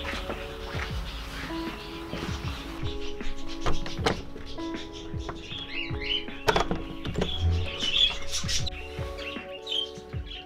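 A large flock of pet budgerigars, fifty or sixty birds kept indoors, chirps and twitters continuously in overlapping short calls and squawks, moderately close.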